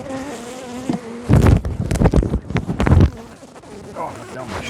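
Honeybees buzz around hive frames while a beekeeper shakes them off to hunt for emergency queen cells, a steady drone broken by loud thumping and rustling handling noises up close.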